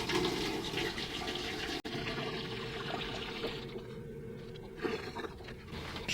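Water poured into the steel fuel tank of a 1999 Yamaha 900S Diversion, being de-rusted with its fuel tap removed, makes a steady, close rushing gush for about six seconds, broken by one brief cutoff.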